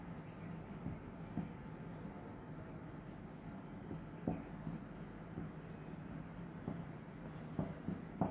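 Chalk or marker tapping and scraping on a board during a chemistry lecture, quiet scattered strokes over a steady hum in a room.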